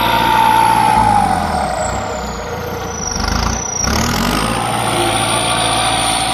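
A turbocharged L5018 tractor engine roars steadily up close while levelling a flooded rice field in second gear, a high whine sliding down in pitch over the loud, continuous rumble.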